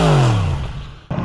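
A 2022 Moto Guzzi V7 Stone 850 motorcycle engine roars loudly nearby, its pitch sliding down as the revs fall, then dips briefly before picking up again.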